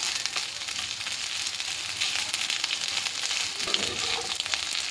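Dried fish (shutki) fries with pointed gourd peels in hot oil, a steady, close crackling sizzle with occasional louder pops and faint stirring, no voices.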